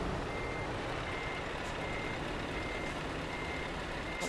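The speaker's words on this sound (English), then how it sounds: "Looks like that truck is there going to reverse" A truck in the driving game Truckers MP backs up with steady, repeating reversing beeps over a constant engine drone and road noise, heard alone without speech.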